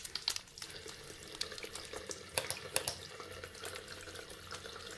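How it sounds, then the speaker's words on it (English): Warm tap water runs steadily over hands at a sink, a continuous splashing hiss broken by brief sharper splatters as the hands move under the stream, close and moderately loud. "Wet your hands under warm running water and add soap."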